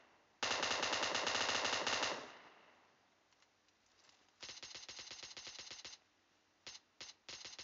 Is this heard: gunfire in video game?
yes